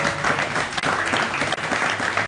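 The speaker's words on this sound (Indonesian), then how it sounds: "tepuk tangan dong." Studio audience applause on a television talk show, a loud, dense burst of clapping filling the whole clip with no talk over it.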